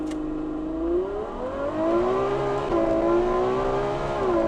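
Ferrari V12 launched at full throttle from a standstill, a loud close engine roar whose rising harmonics climb steadily through the gears with brief dips at shifts, continuous and strong for several seconds with no talk.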